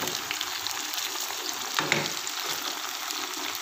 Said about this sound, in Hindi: चिकन को फ्राई करते हुए तकरीबन 5 से 7 मिनट हो गए हैं